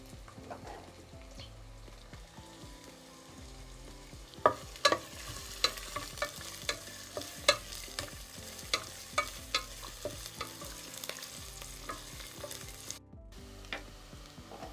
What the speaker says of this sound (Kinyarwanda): twashize amavuta mu isafuriya, dushyiramo igitunguru twakase uburyo ushaka nawe ukagishyiramo